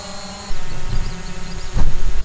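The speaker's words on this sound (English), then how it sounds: "That is much more quiet than the Phantom 4 Pro. That is a very quiet drone." A DJI Spark drone lifts off and climbs straight up, its steady high-pitched propeller whine and motor hum rising loud and close, swelling into a stronger burst near the end.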